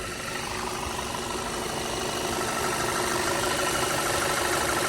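A 2009 Volkswagen Tiguan SE 4Motion idles steadily, a close, even engine rumble with light vibration and no change in pace throughout, no talking.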